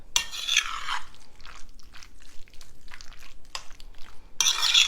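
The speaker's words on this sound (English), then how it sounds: "So we're just going to stir this around and mix up our potato salad." Potato salad being stirred with mayonnaise in a bowl, soft wet scraping and clinking utensil strokes in irregular bursts, close and fairly quiet, with no voices.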